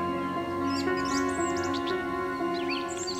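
Several birds chirp and whistle in quick, scattered phrases over a steady tonal hum, the calls bright and fairly close, with no talking.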